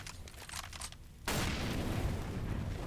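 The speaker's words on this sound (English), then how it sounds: "Grenades are landing thick and fast on the site" Grenades exploding on a bombsite in a Counter-Strike match on Mirage: a loud burst of crackling blast noise cuts in sharply and holds, following a quieter spell of muffled thumps.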